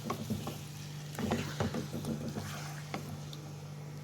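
Salted chicken fries in hot oil for karahi over high heat, a soft bubbling sizzle with intermittent stirring clatter and a low steady hum underneath.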